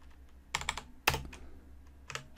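A few short bursts of computer keyboard typing, with a quick cluster of keystrokes, a single sharp clack, then another brief flurry, close and fairly quiet in a still room.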